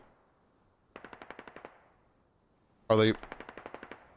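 MRAP armored vehicles fire in the video game Squad as two short bursts of rapid machine-gun fire, each about ten rounds, from a moderate distance. A sharp, loud blast comes just before the second burst, and a voice speaks briefly.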